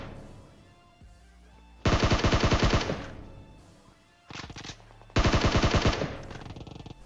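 Loud M4 assault rifle fire in PUBG, two long sustained automatic bursts with a shorter burst between them, close and dominant over faint game background.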